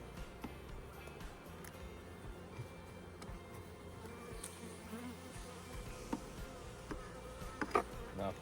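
Honey bees buzz around an open hive during a hive check, a soft, steady drone of many insects with small faint clicks and knocks of handling scattered through it.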